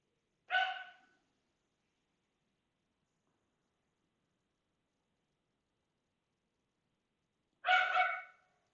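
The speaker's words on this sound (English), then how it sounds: "the dogs are making a bunch of noise" Dogs bark in two short, separate bursts, one near the start and one near the end, with quiet silence between them, fairly faint and at a distance.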